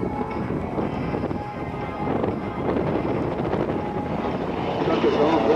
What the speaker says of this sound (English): He climbs it vertically, the airspeed drops almost to zero, and he pivots the aircraft right around itself.